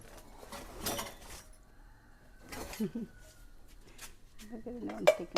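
Metal pots and vessels, including traditional uruli, clank and clatter in a few scattered bursts, fairly near but quiet, with voices talking in between.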